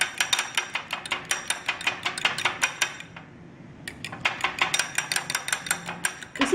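Chicken being mixed with salt and black pepper in a bowl, giving a rapid, steady run of close clinks and knocks from a utensil against the bowl, with a brief pause midway before the mixing resumes.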